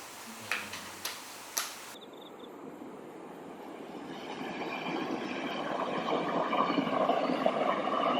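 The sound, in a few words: Mugunghwa train running on the Taebaek line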